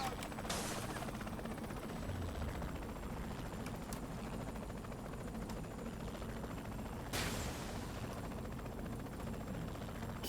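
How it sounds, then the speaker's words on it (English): Helicopter flying in the video game Saints Row 3, a steady rotor drone running the whole time at moderate level, with brief sharp bursts of gunfire breaking through. "In the helicopter, Sean."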